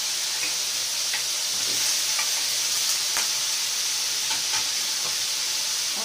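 Celery being stir-fried in a pan with corn and mixed vegetables gives a steady, close sizzle, with light scraping and stirring clicks scattered through.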